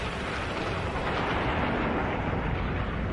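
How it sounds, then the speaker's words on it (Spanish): Deep, continuous rumbling blast of a supernova explosion sound effect in a space documentary, a loud, dense roar sustained evenly throughout with no talk. "La explosión es de tipo supernova."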